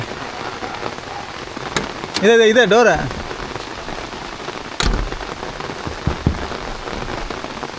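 Heavy rain pours down without letup during Diwali-season downpours, a dense, loud hiss of drops on surfaces throughout, with a brief voice speaking partway through and a sharp knock later.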